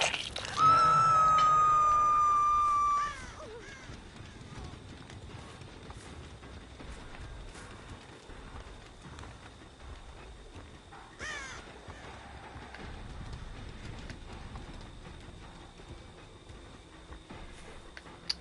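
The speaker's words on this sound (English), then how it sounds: "No crows flew that way" Crows caw loudly in a burst in the Dead by Daylight video game, a harsh rapid squawking that fades after a few seconds into quieter ambience, with a later brief flutter of caws.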